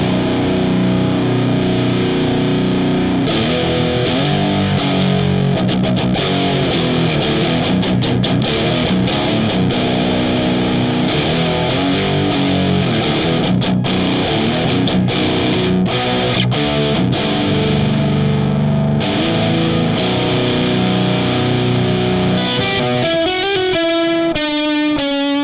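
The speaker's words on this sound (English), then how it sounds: "Now we're gonna proceed with the gain knob of the boost." Distorted metal guitar through an Electro Harmonix Tortion JFET overdrive pedal, its boost gain turned up, churns out dense, loud chugging riffs with rapid staccato breaks, ending in a ringing sustained chord that decays.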